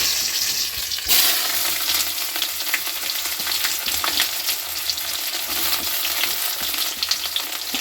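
Chopped onions frying with cinnamon and a pinch of sugar, a loud, dense, unbroken sizzle up close with faint stirring scrapes running through it and no voices.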